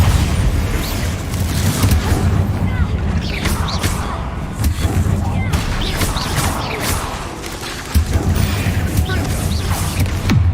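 Confringo and Bombarda spell explosions in Hogwarts Legacy, repeated loud booming blasts over a steady rumbling background, with a voice speaking in places.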